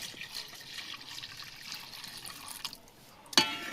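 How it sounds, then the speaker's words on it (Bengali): Milk is poured into melted caramel in a pan, making a soft, faint liquid trickle, with a brief brighter splash near the end and no talking. "গলে গেছে ক্যারামেলটা, হালকা আসে ঢেলে দেবো।"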